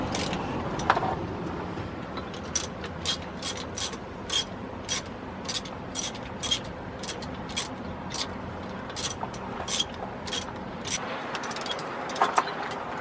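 A socket ratchet loosening bolts on a Holden VZ Alloytec engine, giving a steady run of short, sharp clicking strokes in an even rhythm, close and clear, with no talking.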